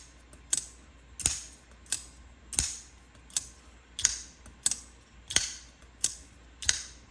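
A Sencut button lock knife is flicked open and shut again and again, producing about a dozen crisp, close clicks at a steady, fairly quick rhythm over quiet room tone.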